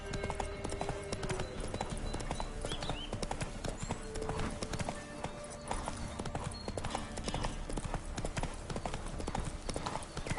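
Roach the horse gallops in The Witcher 3, fast steady hoofbeats clattering loud and continuous with the rhythmic clip-clop of a running horse.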